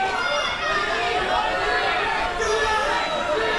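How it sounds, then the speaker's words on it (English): A wrestling crowd at a SHINE women's match reacts with a continuous, loud roar of chatter and shouting that fills the arena without letup. "Listen to the reaction from the crowd."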